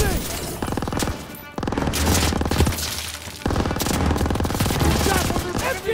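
Machine gun fire in Call of Duty: WWII rattles in rapid, sustained bursts, loud and close, with short breaks between volleys and distant shouting underneath.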